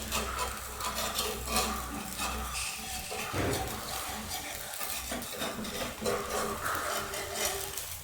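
Spoon scraping and stirring around the sides of a pan while cooking, continuous clattery scrapes and light metallic knocks over a steady low background hum, close and moderately loud.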